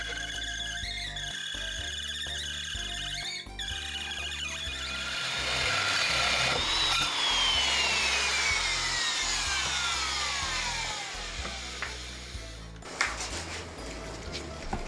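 Hand saw cutting through a street-legal car muffler, a steady rasping of repeated strokes close up with a rising metallic squeal partway through, heard alone without talk.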